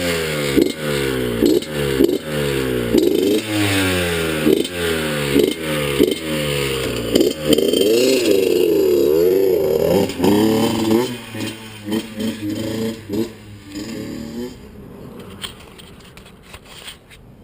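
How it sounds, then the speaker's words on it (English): A dirt bike is kicked over several times in a steady rhythmic chugging, then the engine catches and runs loud and close, revving unevenly before settling and fading near the end. "That's how you start the dirt bike."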